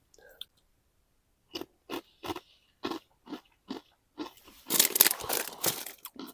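Crisp bites into fried bacon fry snacks on a misty wild camp, a run of sharp separate crunches in a slow rhythm, close and clear, followed by a denser burst of crackling chewing.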